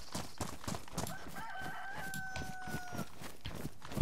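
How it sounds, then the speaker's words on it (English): A chicken in the video game DayZ crows loudly near the listener, a drawn-out rooster call rising and holding for about two seconds, set against busy in-game ambient noise with no talking. "It was just a chicken making that noise."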